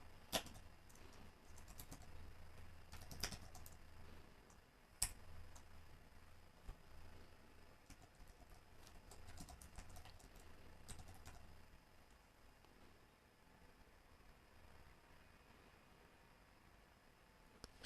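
Faint, sparse computer keyboard keystrokes while Java code is entered, with scattered single clicks and short bursts over a low background hum, quieter toward the end.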